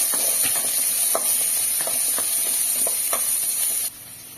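Chopped onion and red chillies fry with a steady loud sizzle in a pan, with scattered soft scrapes as they are stirred, before the sizzle cuts off abruptly near the end.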